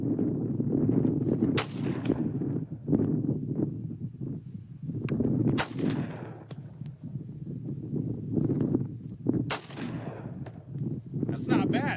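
Bergmann-Bayard Model 1910/21 9mm pistol fired outdoors, several sharp shots spaced a few seconds apart over steady wind and background rumble, with faint talk.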